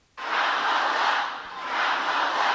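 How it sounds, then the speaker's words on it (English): A political rally crowd erupts in loud, sustained shouting and chanting, a dense roar that starts abruptly and holds for the rest of the moment, with no other voice over it. "And so then her paid crowd shouts the hecklers down."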